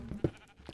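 Short sheep bleat from a video game, a single brief faint call lasting well under a second, heard alone without any talk.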